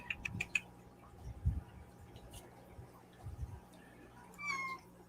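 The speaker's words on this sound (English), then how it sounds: "He meowed before he laid down." A faint, soft cat meow near the end, with low thumps and quiet rustling earlier in a quiet room.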